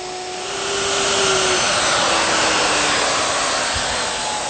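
A router bit cuts a curved groove into a wooden block, its steady high-pitched whine and broad rushing roar running loud and continuous with no talking.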